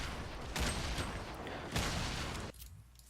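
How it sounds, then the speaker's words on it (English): Grenades from a grenade launcher go off in Fortnite as a loud, dense run of blasts and crackling gunfire, with two heavier bursts before the sound cuts off abruptly. "he's starting to put grenades down range."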